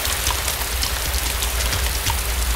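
Steady, loud rain falls in the dark in the survival video game DayZ, a dense continuous hiss with scattered droplet patter and no voices.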